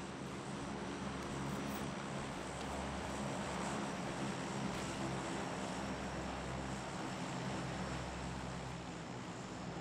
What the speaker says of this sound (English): Here, a plane.